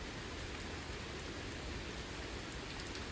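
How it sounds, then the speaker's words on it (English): Steady rain falling outdoors in nature, a dense continuous hiss of drops spread evenly across the whole stretch, close and fairly soft, with no voices. "here comes the rain"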